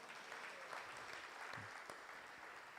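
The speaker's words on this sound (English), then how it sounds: "So let's give her a round of applause." Temple audience members applaud a class speaker, a steady, moderately distant patter of many hands clapping throughout, fairly quiet and even, with a faint voice or bump in the middle.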